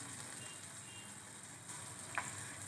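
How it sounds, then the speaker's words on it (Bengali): Onion, tomato and green chili sizzling steadily in oil in a wok, a soft, even frying hiss with a faint tick of a utensil near the end, no voices. "টমেটো কাঁচা লঙ্কা আমি অ্যাড করে দিয়েছি এখন এক মিনিট ভাজবো বেশি ভাজবো না"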